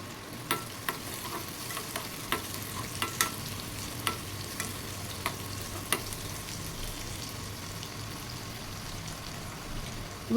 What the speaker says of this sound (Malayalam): നമുക്ക് കുറച്ച് വെളുത്തുള്ളിയും ചെറിയ ഉള്ളിയും കൂടെ അരിഞ്ഞതാണ് ഇത് നന്നായിട്ട് ബ്രൗൺ കളർ ആവുന്ന വരെ നമുക്കിത് ഫ്രൈ ചെയ്യണം